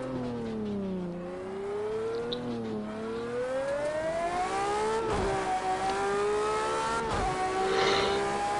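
Racing video game car engine revving and shifting through gears on a track with a chicane, the pitch climbing and dropping with each gear change, loud and continuous, with brief tire squeals and thumps of hitting curbs or walls.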